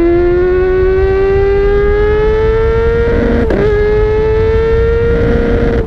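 Kawasaki ZX-10R 1000cc sport bike engine held at a loud, steady high-pitched rev that climbs slowly, with a brief blip near the middle, close and continuous with no talking.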